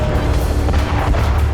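Continuous heavy, low booming rumble of an explosion at a Russian arms depot in Kharkiv, loud and sustained without a break.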